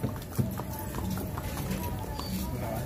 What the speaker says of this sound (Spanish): mira los caballos